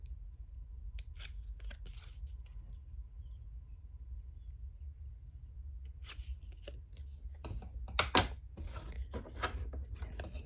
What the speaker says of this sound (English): cut this out to create the neck of the jar